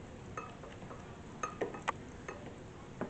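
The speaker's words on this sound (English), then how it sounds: "We'll add a little bit at a time slowly, and then keep whisking this while we do it." A whisk stirs heavy whipping cream into a crème brûlée mixture, giving faint, irregular clinks and taps against the bowl in a quiet kitchen with no talking.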